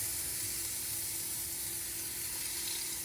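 About three-quarters of a tablespoon of butter melting in a hot cast iron pan ahead of searing sous vide burgers, a loud, even, close hiss of sizzling with no voices.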